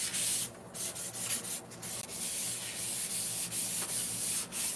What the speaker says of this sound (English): Giving it a good sand down.